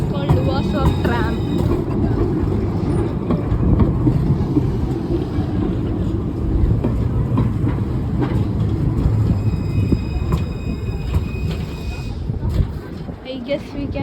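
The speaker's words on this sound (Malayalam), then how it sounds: "so guys, this is called Luas or tram" A Luas tram in Ireland rumbles past on its rails with a continuous, fairly loud roll while people talk nearby on the street.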